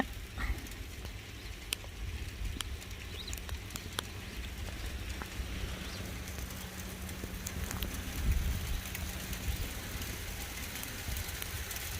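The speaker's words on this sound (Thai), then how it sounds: "อู้ตกหนักเลย เม็ดเล็ก ๆ เหมือนเม็ดโฟมอะทุกคน" A heavy fall of small, foam-like hailstones outside a house makes a dense, continuous patter of tiny impacts, with sharper clicks standing out now and then at a fairly low, steady level.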